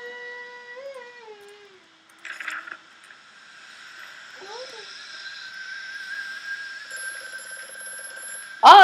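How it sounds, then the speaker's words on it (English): In the horror video game Amnesia: A Machine for Pigs, an old telephone rings with a sustained electronic tone amid eerie tonal ambience, quiet and lingering, with brief mechanical clicks and a sudden loud burst at the end. "Oh, the phone's ringing."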